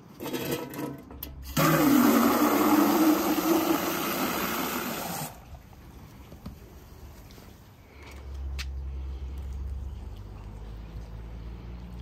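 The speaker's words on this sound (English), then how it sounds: "And then I will water the rose in with my fertilizer water." Fertilizer water is poured onto a newly potted Kordes climbing rose, a loud rushing splash for a few seconds that stops abruptly, followed by quieter handling noises and a low hum.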